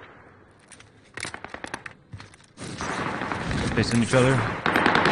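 Gunfire in Call of Duty on Rebirth Island: several sharp shots crack first, then dense bursts of automatic fire layered with game effects, with players talking over the shooting.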